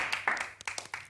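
Audience applause and clapping during a mimicry reality show, a short burst of scattered, fairly faint hand claps with uneven spacing over about a second.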